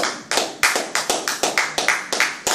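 A church congregation claps its hands in praise, with about a dozen sharp, uneven close claps in a loose rhythm filling a short burst.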